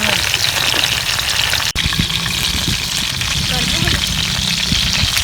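Chicken shashlik pieces sizzle in oil on a tawa griddle, a loud, continuous frying hiss with small crackles and pops close up.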